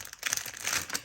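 Sheets of watercolor and acrylic paper being handled and shuffled, giving soft close crinkling and rustling in a few quick bursts, alone with no talk.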